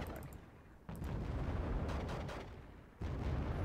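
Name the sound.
mortar fire hitting Panzers in video game Wargame Red Dragon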